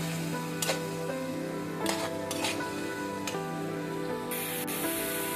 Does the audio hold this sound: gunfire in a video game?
no